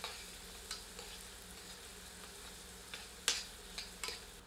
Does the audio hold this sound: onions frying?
yes